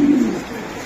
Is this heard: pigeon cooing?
yes